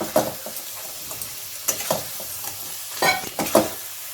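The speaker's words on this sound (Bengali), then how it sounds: "মশলাটা ভালো করে মাছের গায়ে আমি মাখিয়ে নিলাম।" Fried tengra fish being mixed into cooked masala over a low flame, several distinct scraping and clattering strokes of a spoon against the pan over a quiet sizzle, close and intermittent.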